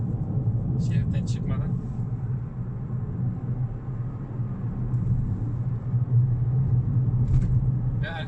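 A 2019 Toyota Corolla hybrid sedan takes a bend at about 90 km/h, heard from inside as a steady low road and engine rumble throughout, with brief voices over it.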